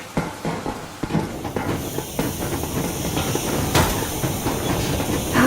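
Steam train rolling along in the video game Metro Exodus, a steady rumble with clattering wheel rhythm and hiss that builds slightly, running alone without voices.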